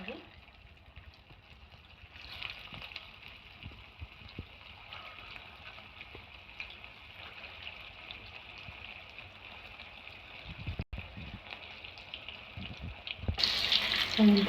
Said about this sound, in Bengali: তেলটা গরম হয়ে গেছে আমি আস্তে আস্তে দিয়ে